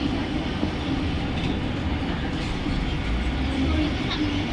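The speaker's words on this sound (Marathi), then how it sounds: "प्लॅटफॉर्म क्रमांक 1 पर आई हुई लोकल 1:38 की ठाणे जाने वाली धीमी लोकल है" A loud, continuous rumbling drone of a Mumbai slow local train bound for Thane at platform 1, with faint clanks and a blurred station announcement underneath.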